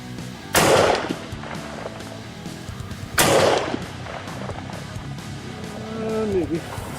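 Two loud rifle shots of 46-grain handloads at an outdoor range, spaced a few seconds apart and each followed by a short decay, with talking in between.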